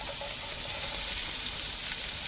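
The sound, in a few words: grated coconut frying in a pan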